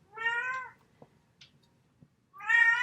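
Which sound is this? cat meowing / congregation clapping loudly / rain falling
cat meowing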